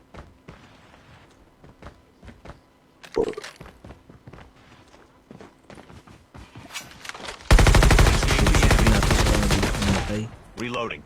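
Gunfire in a shooting video game: scattered single shots and footsteps, then a loud, sustained burst of rapid automatic fire, with a player talking at times.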